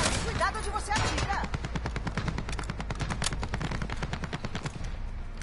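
Sustained rapid gunfire in the video game Call of Duty Warzone, dense machine-gun bursts running loud and continuous throughout, with game sound effects layered over it.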